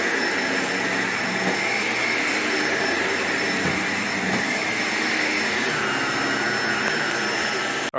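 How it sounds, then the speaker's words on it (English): A vacuum cleaner running steadily on carpet during a carpet-cleaning job, a loud constant whooshing roar with a high whine that stays close throughout, with no talking, before cutting off abruptly at the end. "Alright, so after doing our thorough vacuuming"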